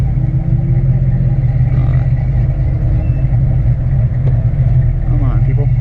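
A cammed Chevrolet Silverado truck engine runs close by with a loud, deep, lumpy idle that swells in mild revs, and someone talks over it throughout.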